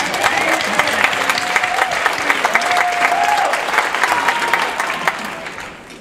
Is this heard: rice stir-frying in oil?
no